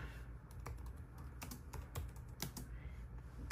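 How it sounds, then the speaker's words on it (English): Quiet, steady typing on a computer keyboard, a rapid irregular patter of key clicks close by, entering a message into a text box for a mom-to-be card. "type whatever message into this text box"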